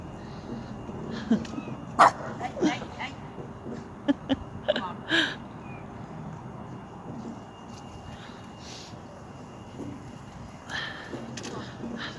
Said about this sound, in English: Also getting attacked there by a couple of little dogs